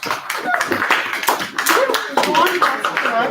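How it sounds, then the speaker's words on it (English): A small audience at a Maker Faire presentation claps steadily for a few seconds, with people talking over the applause. "Let's give them a round of applause."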